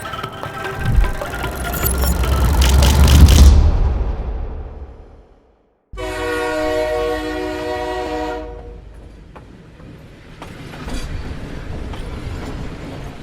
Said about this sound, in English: Our journey starts with a train ride from the capital Jakarta